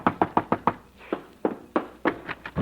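Knuckles rap on a door in a classic comedy scene: a quick run of five close, loud knocks, a short pause, then several more spaced raps, with no voices.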